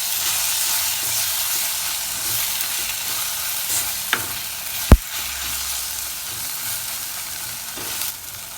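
Banana stem sautéing in a pan for sambar gives a steady close sizzle with a couple of sharp utensil clinks midway and a softer knock near the end, no voices.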